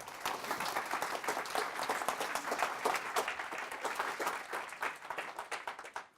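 A conference audience applauds to welcome speaker Chris Kilkenny, a dense, steady burst of many hands clapping that fills the space and tapers off at the end, with no talking over it.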